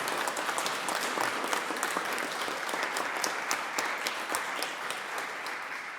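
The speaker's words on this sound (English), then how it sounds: "give her, again, a round of applause for all the good work she does" Audience applause at the annual Francophone flag-raising ceremony in Rhode Island, a dense, steady burst of many hands clapping that holds at an even level for the full stretch, with no talk over it.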